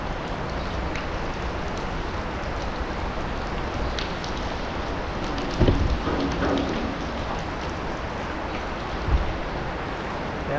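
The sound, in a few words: rain falling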